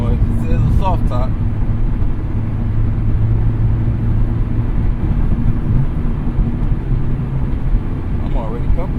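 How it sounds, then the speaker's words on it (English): Inside a Honda S2000 AP1 soft-top convertible on the move, a loud, steady roar of wind and road rumble fills the cabin, with a voice briefly audible near the start and end. "Hear some wind noise"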